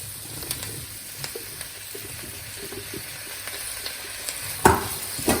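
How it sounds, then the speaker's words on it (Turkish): Soft sizzling and stirring of onions and celery sautéing in a pan, with occasional scraping clinks and a sharper knock near the end; no talking. "Ve bunları sotalıyorum biraz."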